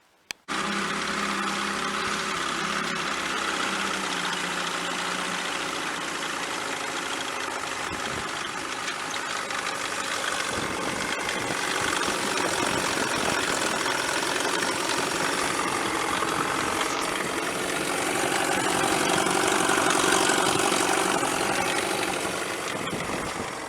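A 1957 Mercury Mark 30 outboard motor on a Custom Craft boat runs steadily for a long stretch, a loud, continuous buzzing drone that rises slightly in intensity near the end, with no voices.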